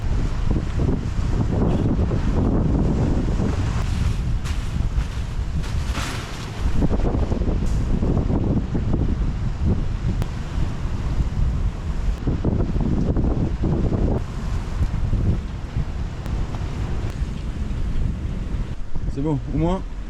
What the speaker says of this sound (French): Il y a beaucoup plus de houle, il y a beaucoup plus de vent, beaucoup plus de pluie, de vagues, de tout.